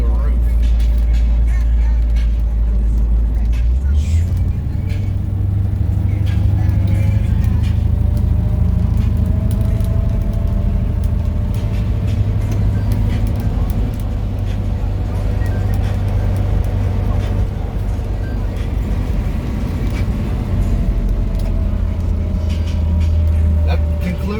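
A 1964 Chevrolet Impala cruising past Indiana cornfields, heard from inside as a loud, steady low engine drone and road rumble with a gear change early on, continuous throughout.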